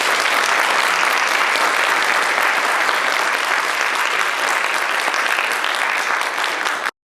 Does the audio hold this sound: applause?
yes